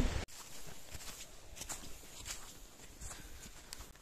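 Soft, faint footsteps of people walking a lakeside nature trail crunch and pat in an uneven rhythm, close by and quiet, with no talking.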